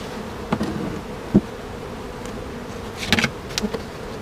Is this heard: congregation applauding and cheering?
no